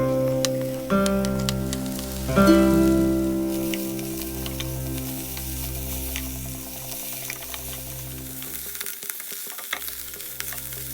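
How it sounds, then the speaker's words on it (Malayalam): Chopped red spinach hits hot oil in a pan, setting off a loud, steady sizzle and bubbling fry with stirring clatter, close up and continuous with no talking. "അരിഞ്ഞു വെച്ച ചീര ഇതിലേക്ക് ചേർക്കാം."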